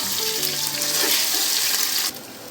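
Golden onions and ginger garlic paste fry in a pan with a bright, close sizzle, stirred briefly, and the hiss drops abruptly near the end.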